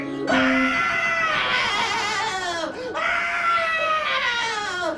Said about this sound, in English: Causing Mother Gothel to wither into a shrieking old hag!